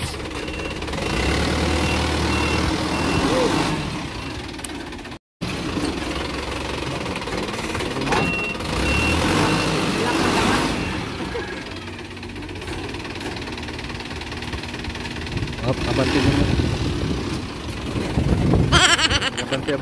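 A four-wheeled vehicle's engine runs steadily, close up, while it backs up and brakes during a brake adjustment, the knocking idle rising and falling with faint voices nearby.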